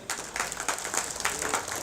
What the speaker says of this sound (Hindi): एक बार इनके लिए पहले तालियां बजाइए